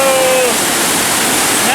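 Shaki waterfall in Armenia roars as a steady broadband rush of falling water, close and loud throughout, with a faint thin tone and a hint of voices underneath.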